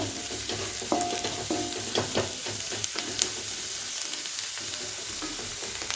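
Ponnanganni greens fry in a pan while being stirred, making a dense, steady sizzle with scattered small clicks and scrapes from the spatula, close and unbroken by speech.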